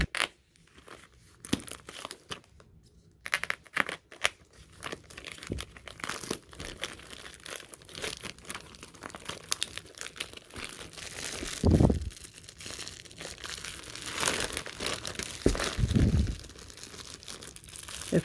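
Plastic bag crinkling and rustling up close, in irregular bursts with a few louder crunchy crumples, no talking.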